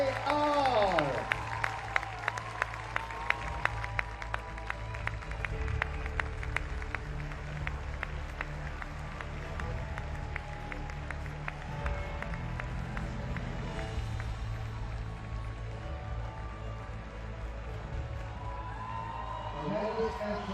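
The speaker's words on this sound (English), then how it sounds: "One more round of applause." A crowd applauds the top three athletes at a men's bouldering final in Prague, steady clapping and cheering in a large venue with an announcer's voice over a PA.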